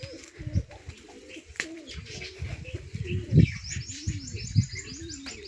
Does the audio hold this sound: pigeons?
yes